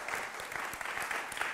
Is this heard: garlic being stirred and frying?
no